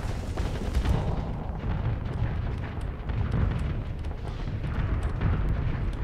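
Starship weapons blazing on auto fire in the space combat game Starsector, a dense, continuous barrage of booming shots and crackling impacts with steady loud low rumble and no voices.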